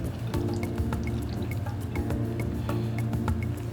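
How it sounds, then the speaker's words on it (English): Beet juice poured through a strainer, a steady close trickle with scattered drips and wet splashes running without a break, no voices. "you pour it through a strainer"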